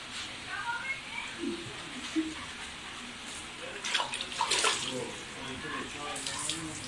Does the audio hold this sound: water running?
yes